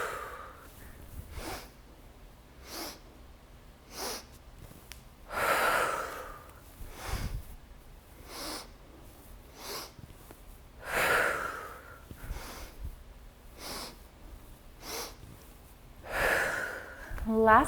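Deep yoga breaths come in slow rounds, each a long airy inhale and a long exhale rising and fading in waves, close to the mic and heard alone without talk.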